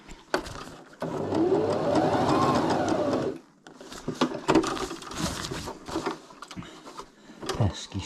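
Sewing machine running a straight stitch along a tent's bottom hem, a close steady whir of a couple of seconds, then stopping amid handling clicks and rustles of fabric.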